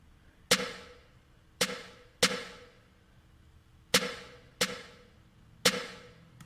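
Six sharp programmed snare hits land in an uneven pattern, with extra strikes slipped between the main backbeats of a trap-style beat. Each crack is crisp and decays quickly, alone with no voices.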